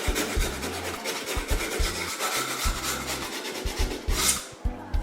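Sandpaper rubbing the contact boards of loose electronic piano keys, a close, dry rasping scrape repeated in short strokes with brief pauses, alone without talk.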